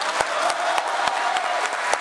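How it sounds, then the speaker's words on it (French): Steady audience applause at a talk, a dense even patter of many hands with some sharper claps standing out, moderately loud and continuing throughout. "Et là, c'est moi qui vous applaudis"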